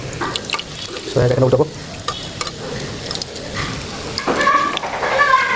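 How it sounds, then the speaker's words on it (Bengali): Leaf fritters (pata bora) sizzle in hot oil with a steady frying hiss and occasional stirring scrapes, close up, while a person talks over the cooking. "এই আমার পাতাটা বড়া ভিতরে ছেড়ে দিচ্ছি, পাতাটা পাতা বড়া।"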